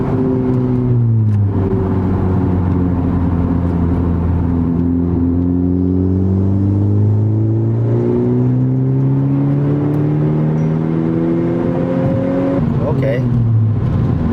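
Flex fuel car revving hard in first gear with wheelspin and no traction, its engine note climbing in repeated rising sweeps, loud and close, with a brief break near the end.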